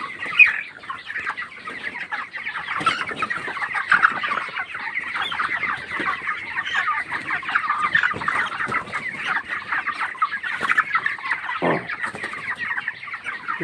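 A crowd of broiler chickens on a poultry farm clucks and chatters continuously, a dense overlapping flock noise that stays steady throughout.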